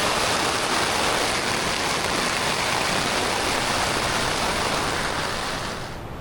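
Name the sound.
heavy rain and wind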